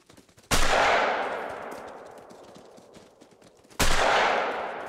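Video game gunfire in the Call of the Wild stampede: two loud, sharp blasts a few seconds apart, each followed by a long decaying reverberant tail.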